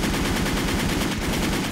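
Rapid automatic gunfire from powerful weapons in the online shooter Wolfteam, a loud continuous rattle of steady bursts with no talk over it.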